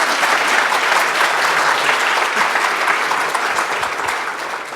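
A conference audience applauds a talk on a distributed time series framework for Spark, dense continuous clapping from many hands, loud and even throughout before easing slightly at the end.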